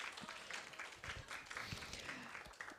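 An audience at a women-in-tech hackathon claps in faint, steady applause that carries on throughout, with some quiet talk mixed in.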